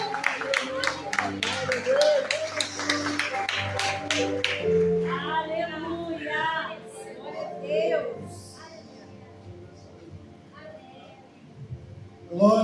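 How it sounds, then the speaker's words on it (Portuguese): Church congregation clapping hard during a worship service, a run of rapid claps that fades out after a few seconds while someone speaks and sings over a sustained music backing. "Você aplaude o mais forte que você puder a esse Deus que é digno"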